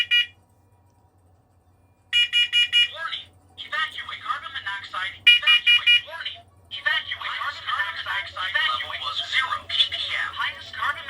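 Household smoke alarms being tested in turn, giving bursts of high electronic beeping alternating with a synthetic voice announcing warnings, loud and close, with pauses between alarms.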